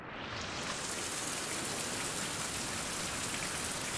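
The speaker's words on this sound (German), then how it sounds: "Es regnet." Steady rain pours in the survival game Fountain of Youth, a dense, even hiss of falling drops with no voices over it.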